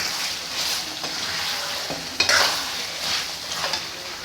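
Beef karahi sizzles and fries in a pan while being stirred, a steady moderate hiss with soft scraping strokes recurring throughout and a sharper clatter near the middle.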